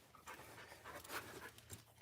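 A Bluetick coonhound on a coon hunt pants in quick, rhythmic breaths, soft and close, with faint rustling between gasps and no speech.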